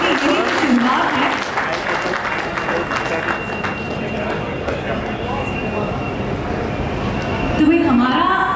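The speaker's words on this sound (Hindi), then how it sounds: "भाई जबरदस्त तालियां बजती रहनी चाहिए" Audience applause fills a lamp lighting ceremony hall for a real estate brand event, steady and dense for the whole stretch, swelling slightly near the end, with a voice talking over it.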